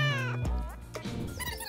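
A kitten meows in a few drawn-out, wavering cries, close and fairly clear, with no talking over it.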